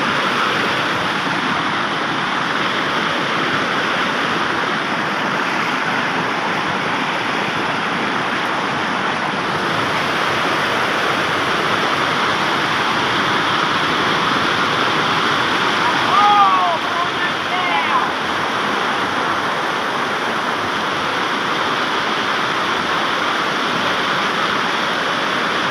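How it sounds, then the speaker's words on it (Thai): A waterfall, Tat Waterfall, roars steadily and loudly nearby, a constant wash of rushing water with a brief faint sound in the middle. "เล่นน้ำน้ำตกตาด"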